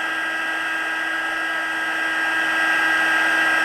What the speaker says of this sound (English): So this is what we think of when we think of a heat tool or embossing gun.